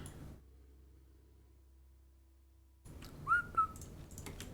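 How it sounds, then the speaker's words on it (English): A person whistles two short, bright notes during a Total War: Warhammer live stream, rising out of background room noise after a near-silent stretch. "I shouldn't whistle."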